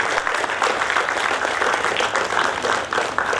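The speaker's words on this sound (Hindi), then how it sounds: "कृपया तालियों से स्वागत करें" An audience at a Kavi Sammelan poetry event claps to welcome a performer onto the stage, a dense and loud burst of applause that stays steady for the whole stretch.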